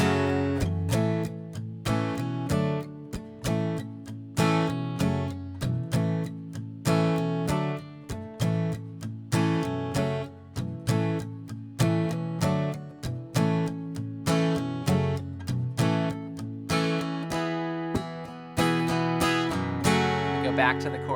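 Guitar playing the short four-bar chord progression of verse 2 from a song, steady strummed chords in a regular rhythm, close and moderately loud, with no voice.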